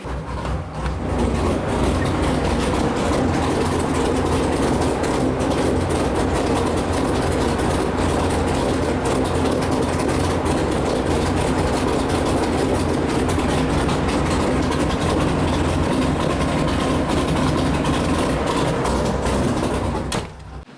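A loud, steady idle from a 404-cubic-inch LS3 stroker V8 on an engine dyno rumbles continuously with a deep low drone, holding constant for about twenty seconds before cutting off at the end.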